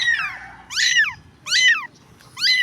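Stray kitten on a dirty street mewing loudly and close, three long rising-falling cries with short pauses between, over a low rumble of street background.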